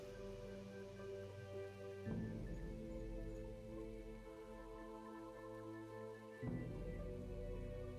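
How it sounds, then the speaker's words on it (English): Steady rain falls on a morning, a continuous hiss with low rumbling tones and a sharper swell in intensity twice along the way, no voices over it. "you all awake to a rainy morning"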